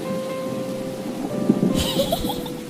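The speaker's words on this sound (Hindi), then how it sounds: "जंगल में बारिश का मौसम आ चुका था।" Steady rain falls in a cartoon forest while thunder rumbles low beneath it, swelling into a louder rolling crack partway through, with hissing rain filling the background throughout.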